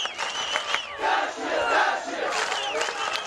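Grená football supporters fill the Centenário stadium with a dense wall of chanting and cheering, voices massed and sustained, loud and slightly distant.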